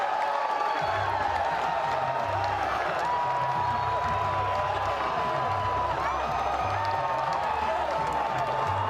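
A college baseball stadium crowd roars and cheers after a walk-off home run in an Oklahoma State vs BYU game, a sustained, dense wall of cheering and clapping with rhythmic stomping or chanting underneath.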